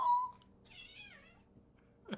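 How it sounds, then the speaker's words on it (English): An orange cat meows nearby in one drawn-out, wavering call, with a faint chirp before it and a soft sound at the end, against a quiet room. "He's our orange cat."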